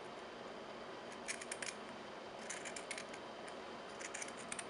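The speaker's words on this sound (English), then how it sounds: "And I'm going to cut a half circle shape." Scissors snip through felt while cutting a half-circle shape, a few soft, quiet crisp cuts clustered in small groups over a faint steady background hiss, with no talk.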